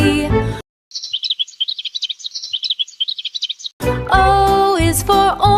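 A burst of rapid, bright cartoon birds chirping plays alone for about three seconds in a children's rhyme cartoon, set between passages of cheerful music.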